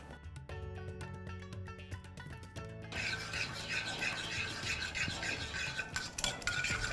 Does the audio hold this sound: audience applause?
no